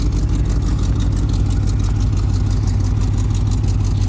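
A car engine idles steadily on a cold start, a constant low rumble with an even pulse, close and loud with no talking.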